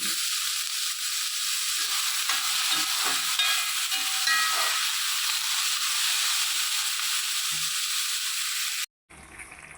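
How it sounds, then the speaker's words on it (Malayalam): Onions sautéing and being stirred in a pan for a pork dry fry, giving a steady close hiss of frying with faint scraping stirs, which cuts off abruptly near the end. "നന്നായി ഇളക്കി വഴറ്റിയെടുക്കാം."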